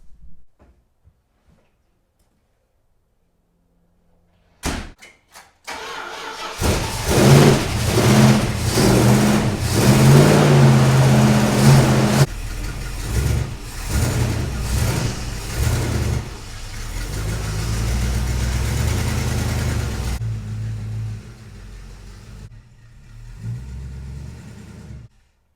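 Car with a newly fitted Borla ATAK exhaust starting up after a brief crank, then revving hard several times before settling into a loud, rumbling idle, close and without talk.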